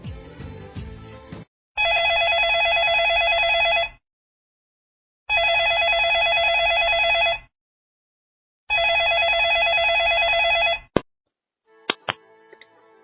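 Telephone ringing for a radio call-in caller, three long electronic ring bursts separated by silent gaps, loud and clean, followed by a few short clicks as the line connects.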